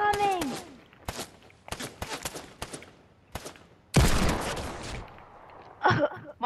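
Video game gunfire crackles in repeated bursts of shots, with a heavier sustained volley in the middle and a louder blast near the end, loud and close, with the start of a shout at the very end.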